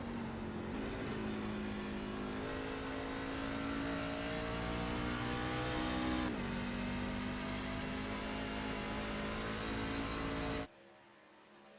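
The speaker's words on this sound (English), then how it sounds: "Drop down the 3rd gear, trying to keep the revs up." A powerful race truck engine at Phoenix Raceway holds a high, steady roar, briefly dipping in pitch as it shifts down to third gear, then cuts off abruptly near the end.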